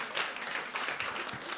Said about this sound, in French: Oui, vous pouvez applaudir hein, si vous voulez applaudir.